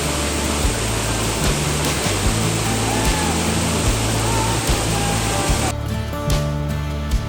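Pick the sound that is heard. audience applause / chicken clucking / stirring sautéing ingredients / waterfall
waterfall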